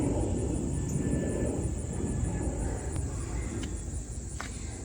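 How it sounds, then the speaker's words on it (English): Airplanes passing overhead above a backyard garden, a broad continuous rumble of distant jet noise with faint insect chirps in the background. "The airplanes, it's never ending."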